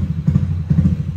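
A bored-up automatic scooter engine misfires at idle, giving a close, loud uneven chugging with irregular popping bursts in quick clusters.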